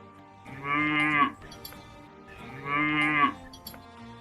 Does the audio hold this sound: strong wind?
no